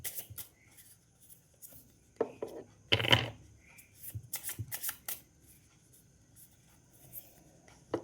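Tarot cards being shuffled and drawn, with soft rustles, a sharp riffle burst in the middle and several quick flicking card slides, close and quiet against a hushed room.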